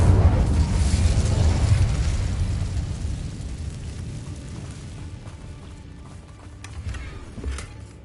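An Incendio fire spell blast in Hogwarts Legacy on PS5: a loud, close, roaring burst of flame that swells and then slowly fades into a dull rumble, with a small pop near the end and no talking.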